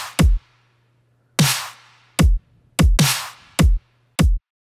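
A dubstep drum pattern made in Ableton Live's drum rack, with a chunky short kick and a chunky snare. Sharp deep kicks alternate with two long, bright snare hits at a slow half-time pace, loud and dry.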